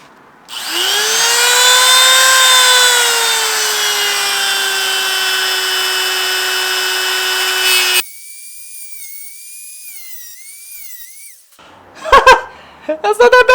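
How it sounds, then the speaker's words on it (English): A Dremel rotary tool whines steadily as it cuts a straight line through rusty body metal on a 1980s BMW E30, a loud, sustained high-pitched grind that suddenly drops to a thinner tone, then stops before a few clattering knocks. "hit this with the Dremel and just get a nice line in there"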